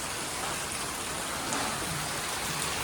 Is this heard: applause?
no